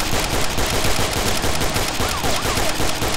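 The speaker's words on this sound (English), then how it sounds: "Why are you shooting at me?" Sustained gunfire in the ArmA 2 video game with the JSRS 1.5 sound mod, a dense, loud, continuous crackle of shots layered with rumble throughout, no clear pauses.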